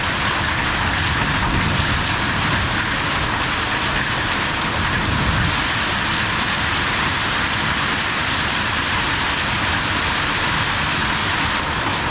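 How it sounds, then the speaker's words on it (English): Dense, steady patter of hail striking surfaces during a hailstorm in Australia, a loud continuous rattle with no pauses and no voices. "this is actually my first time seeing hail fall, like right in front of my eyes"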